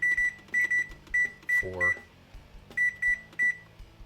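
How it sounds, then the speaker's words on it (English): Oven timer on a kitchen oven preheated to 375 degrees gives a string of short, bright electronic beeps in irregular groups as it is set, with a brief spoken word in the middle. "I'm going to set this timer"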